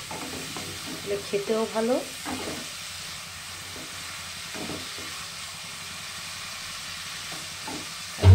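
Spice paste with tomato fries in oil for a potato and pointed gourd curry, giving a soft steady sizzle with a few stirring scrapes near the start, heard close but fairly quiet beneath a woman's brief speech.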